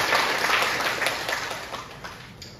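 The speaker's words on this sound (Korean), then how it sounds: "박수 한번 부탁드리겠습니다" Applause from an audience at a graduate school orientation for new students, a brief burst of many hands clapping that starts full and fades out over a couple of seconds.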